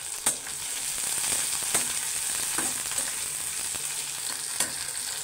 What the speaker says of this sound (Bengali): পেঁয়াজ, কাঁচামরিচ একটু নাড়াচাড়া করে নেবে